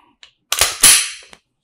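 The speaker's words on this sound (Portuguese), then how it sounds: "primeiro disparo dela vai ser feito em ação dupla" A Taurus PT59s pistol fires one sharp, loud shot up close, fired double-action, with a small mechanical click before it and another click after.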